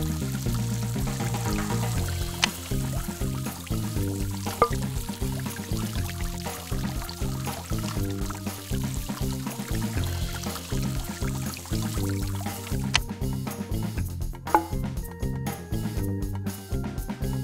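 Water pours steadily into a thirsty dog's bowl in a PBS Kids science game, a soft continuous stream running for the whole stretch beneath bright, busy game music.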